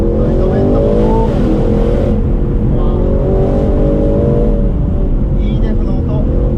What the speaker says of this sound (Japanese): いいデフの音、オープンにしてもドライバーの耳に入ってきますね。